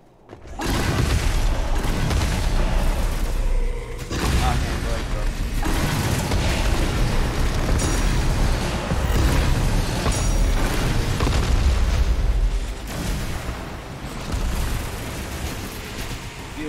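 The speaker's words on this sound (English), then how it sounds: "press mouse 1 to fire twin rockets, F to launch a rocket barrage" Rocket fire and rapid rocket-barrage explosions from the video game Doom Eternal, loud and dense booms with mechanical clatter running almost continuously, layered over game music.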